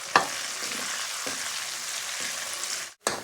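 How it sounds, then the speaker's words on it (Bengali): Chopped onion, green chilli, garlic and ginger sizzle in a hot pan as the base for a chicken curry, a dense, even crackling hiss with a few stirring scrapes and a brief pause near the end. "প্রথমে দিয়ে দেব পেঁয়াজ আর লঙ্কা, রসুন আর আদা, এগুলোকে একটু ভেজে নিচ্ছি।"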